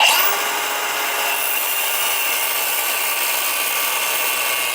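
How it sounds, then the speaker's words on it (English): A Dremel rotary tool grinds steadily into a fuel injector from a work van engine, giving a continuous high whine with a loud start that settles into an even, close drone. "The Dremel's taking way too long."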